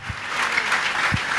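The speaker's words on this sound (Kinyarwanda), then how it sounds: "Kadukomere Imana amashyi menshi." A congregation at a church service breaks into brisk, dense applause, steady and fairly loud throughout the short moment.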